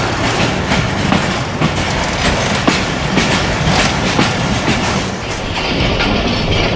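The Pakistan Railways 126 DN Lasani Express passenger train running from Sialkot to Lahore, heard close up with a loud, continuous rumble and a rhythmic clickety-clack of wheels on rail joints.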